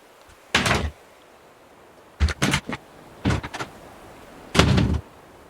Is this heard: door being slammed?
yes